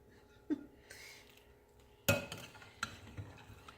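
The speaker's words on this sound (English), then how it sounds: "Mix the cheese up." A spoon scrapes and clinks in a pot while cheese is mixed into a macaroni casserole, with a few sharp knocks and soft scraping strokes at a quiet, close level.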